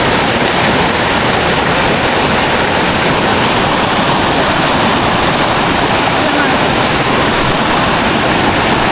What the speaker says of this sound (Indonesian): Sungainya deras sekali.